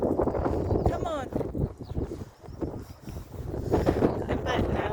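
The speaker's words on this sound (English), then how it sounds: "It's got windy, hasn't it?" Wind buffets a microphone on an afternoon walk with a dog named Max, a steady loud rumble that swells and dips throughout.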